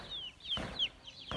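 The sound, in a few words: chicks clucking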